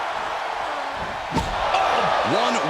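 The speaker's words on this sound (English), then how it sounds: "slamming that bat down as hard as possible" A wrestler slams a bat down hard in the video game WWE 2K24, landing as one sharp impact near the middle, amid steady arena crowd noise with commentary talk over it.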